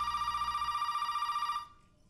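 Old-style telephone in the horror game Resident Evil 7 ringing with a steady, loud bell-like trill for about a second and a half, then cutting off abruptly into near silence.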